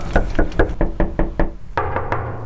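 Knocking on a door: a quick run of about seven even, sharp knocks, a brief pause, then two heavier raps, close and loud with no voices.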